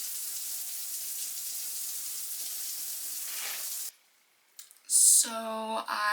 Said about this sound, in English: I did something, so now I'm gonna clean up and take a shower.